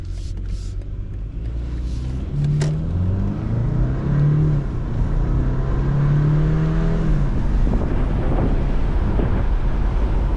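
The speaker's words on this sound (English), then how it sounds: "which is gone is the inline-6, and in its place is this turbo 4-cylinder" A 2024 BMW 530i with a turbocharged four-cylinder engine accelerates from inside the cabin, its engine note climbing through several gears in a steady rising and falling drone under road rumble.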